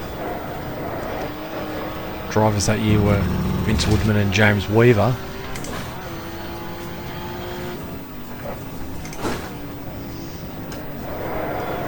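An ex-works BMW touring car from the 1984 British Saloon Car Championship races at Oulton Park, engine revs rising and falling under continuous commentary, with a louder burst of engine noise and a later pass as cars go by.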